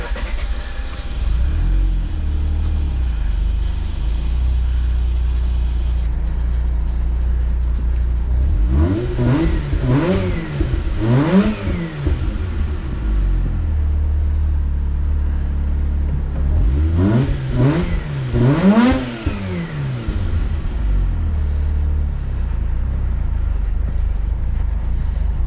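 Car engine after a coil pack install idles with a steady low rumble, then revs twice in two separate bursts, pitch climbing and falling each time before settling back to idle; no talking.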